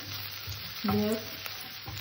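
Beetroot and potato pieces frying and being stirred in a pan over low gas, a steady soft sizzle with one brief louder scrape partway through, no talking.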